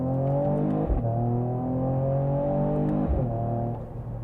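2022 Mercedes E53 AMG S Coupe accelerating hard in sport mode, its engine droning steadily and rising through the gears with two brief shift dips, heard from inside the cabin.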